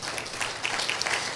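Dense, brief applause from a church congregation during a sermon, a continuous wash of clapping without speech.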